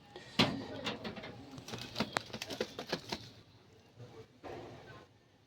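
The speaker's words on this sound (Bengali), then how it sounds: "এক এক করে সবগুলো দেখাচ্ছি আমার লফটের সব পায়রাগুলো।" Pigeons in a loft give soft, low cooing calls amid fluttering and scattered tapping, fairly quiet and close with irregular bursts of activity.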